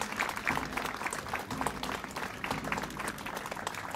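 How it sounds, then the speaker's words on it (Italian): An outdoor audience at a historical street procession in Benevento claps steadily in a dense, continuous burst of applause, moderately loud throughout. "Facciamo un applauso ai ragazzi."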